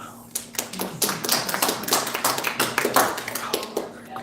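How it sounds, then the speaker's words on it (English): People clap during a city hall meeting, a dense burst of many hands applauding at mid distance with some voices underneath. "Oh, they're clapping."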